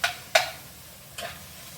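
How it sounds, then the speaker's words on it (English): Chorizo browns in a pan, a faint sizzle under two sharp utensil clicks and a softer third scrape across under two seconds, close and quiet. "So, actually I put the chorizo in here. We're gonna brown it up."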